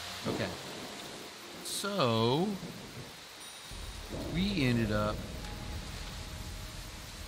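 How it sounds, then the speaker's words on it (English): Steady hard rain falling in Disney Dreamlight Valley, a constant hiss running through the whole clip beneath someone talking. "It's raining out. Cloudy and raining hard."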